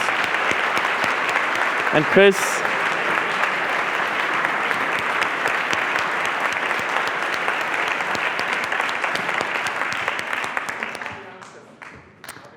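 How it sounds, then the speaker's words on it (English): A conference audience breaks into loud, sustained applause that rolls on for about ten seconds before fading out, with someone briefly speaking over it near the start. "please give a huge applause to yourselves, but also to Lars Gedde and his amazing team"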